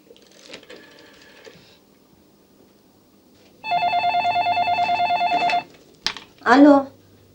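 A telephone sounds in a room with a steady electronic tone and a rapid pulsing ring, followed by short clicks; faint talk is heard earlier and a voice follows.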